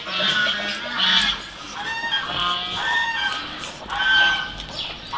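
Ducks call repeatedly nearby in a loud, overlapping series of honking quacks that rise and fall in bursts.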